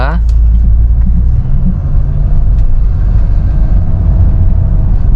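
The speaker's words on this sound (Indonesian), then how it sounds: "Nah dia ngoper kan, RPM nya turun gitu, berarti dia ada ngoper gigi lagi." A 2003 Peugeot 307 SW with an automatic petrol engine hums in a low, close rumble, its pitch falling early on as the revs drop through a gear shift, then settling into a steady drone.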